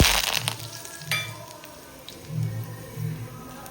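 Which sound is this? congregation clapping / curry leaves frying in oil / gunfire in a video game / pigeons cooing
curry leaves frying in oil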